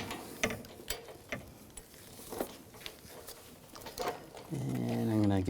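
Ratchet clicks from tightening a bolt on a 2011-2018 Volkswagen Jetta during AC condenser replacement, short irregular bursts of ticking, fairly close, ending in a steadier mechanical whirring run.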